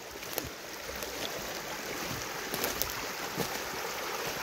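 A small creek swollen by a storm rushes past in a continuous, soft hiss of flowing water. It stays fairly faint and even, with occasional light splashes and no talking.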